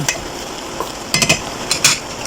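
Vegetables being stirred into rice-stick bihon noodles in a pan for pancit, giving a few soft scraping and rustling strokes with faint sizzle, fairly close, no talking.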